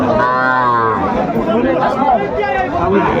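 Cattle, young bulls and calves at a livestock market in Narayanganj, low in long moos near the start, with people talking loudly over the market bustle.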